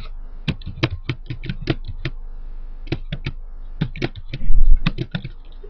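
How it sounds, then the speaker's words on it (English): Keystrokes on a computer keyboard while entering a BSSID during WEP cracking in Backtrack 4, in two quick bursts of sharp, close clicks separated by a short pause, with no voice. "And so you'll type that in."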